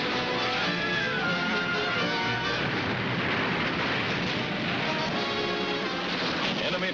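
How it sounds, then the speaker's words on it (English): Grenades bursting against enemy bunkers on Bunker Hill in Korea during a Marine assault, heard as a constant loud, rumbling wash of blasts and noise with no clear gaps, like an old war newsreel soundtrack. "Enemy bunkers on Bunker Hill get a going over from grenades as the Leathernecks close in for the kill"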